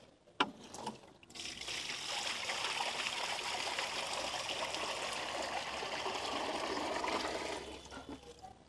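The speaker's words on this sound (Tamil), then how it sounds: "சரி ஓகே நான் தண்ணி வந்து ஊற்றிக்கிறேன்" Water pours into a homemade fish tank built from an old shell, starting after a sharp knock and running as a steady splashing, gurgling stream for several seconds before tapering off.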